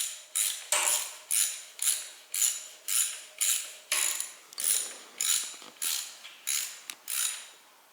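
A ratchet tightens bolts on a 2021 KTM 690 Enduro R during an oil change, clicking through about a dozen short, even strokes in a steady rhythm, close and alone with no talking.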